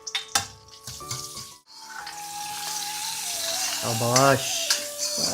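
A tempering of chilli, curry leaves and asafoetida sizzling in hot oil for a Kumbakonam-style rasam; a steady frying hiss begins after some clatter, with voices and tonal sounds over it.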